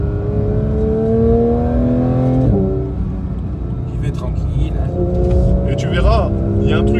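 A Porsche 911 992 GT3 engine revs high while driving, its rising wail climbing, dropping at a shift, then building again, heard from inside the cabin under occasional talk.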